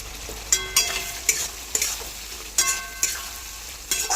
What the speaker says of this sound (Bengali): এবার আলু পটলটা ঢেলে দেবো